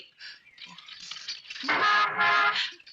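A car horn honking on a street, a wavering tone that rises and then holds steady and loud for about a second, heard close and alone.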